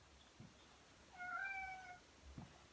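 A house cat gives a single soft meow, faint against a quiet indoor background with a washing machine running somewhere in the home.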